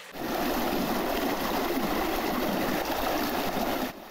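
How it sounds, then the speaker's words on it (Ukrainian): Tap water gushes from a crater on a roadside beside residential yards in Myrnohrad, Ukraine, making a steady, loud, unbroken rushing and splashing flow that runs alone without any voices. "водопровідною водою, яка тече з вирви, котра утворилася на узбіччі дороги біля подвір'я сусідів"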